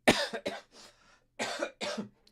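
A few harsh coughs in quick succession, close to the microphone, followed by a couple more rough bursts after a short pause.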